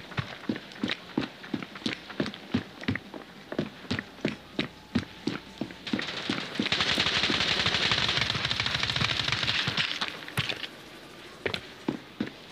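Rapid bursts of automatic gunfire from the mobile shooter game Standoff 2, sharp repeated shots in quick rhythm with a sustained rattling spray in the middle, loud and close, with no talking.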